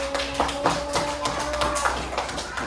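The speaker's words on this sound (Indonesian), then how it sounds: "Woi, pintarnya anak ikut tepuk tangan dulu" Children clap their hands in a classroom lesson, a rhythmic series of light, sharp claps over a sustained tonal background, close and fairly loud.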